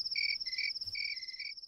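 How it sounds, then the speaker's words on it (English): Crickets chirp steadily in a fast, high-pitched pulsing trill, continuous and fairly faint, with no other sounds. "Is it the sound of pigs oinking or crickets chirping? Crickets!"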